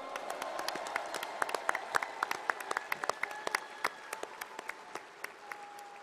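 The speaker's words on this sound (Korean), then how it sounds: "아쉬움을 삼키신 다른 후보들께도 축하와 위로의 큰 박수 부탁드립니다." Applause from the audience at a political party convention, steady clapping from a large hall with sharp individual claps standing out near the microphone, moderately quiet and without talk.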